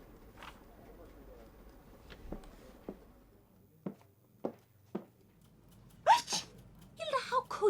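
A character sneezes in the video game Murder in the Alps, a short burst near the end after a few soft footstep-like thuds and quiet room tone, clear and close.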